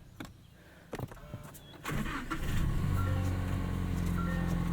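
A 2024 Toyota Tacoma with a manual gearbox cranks over and its engine catches, rising into a steady, loud idle after a couple of quiet clicks and thumps inside the cab.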